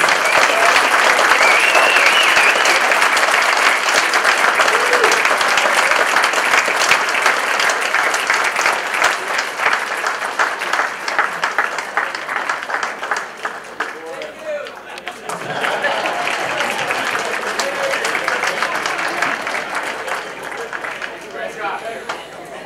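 Audience at a Memorial Day veterans breakfast at Hillsborough High School bursts into sustained loud applause, dense continuous clapping that eases slightly midway and then swells again.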